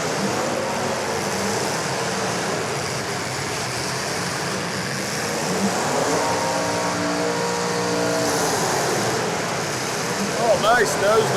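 Demolition derby car engines rev hard in a continuous loud roar, with rising and falling pitch as drivers stay on the gas, under crowd noise and an announcer talking over the action.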